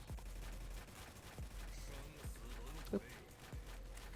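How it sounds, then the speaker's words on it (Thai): An automatic gun turret in the video game XSHOT fires sharp shots at a steady, widely spaced rhythm, about every three quarters of a second, while someone talks over it. "คลิกซ้ายครับเพื่อเป็นการตั้งป้อมปืนนะครับ ประมาณนี้นะครับ มันก็จะยิงให้เราอัตโนมัติเนาะ"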